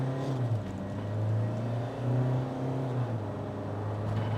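A 2023 Mahindra Scorpio-N accelerating hard from a launch, its engine droning steadily with pitch rising and falling through gear changes, heard from inside the cabin at moderate level.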